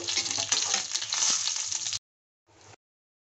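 Fish fry in hot oil in a wok, sizzling and crackling steadily for about two seconds, then cutting to silence before a brief burst of sizzling returns.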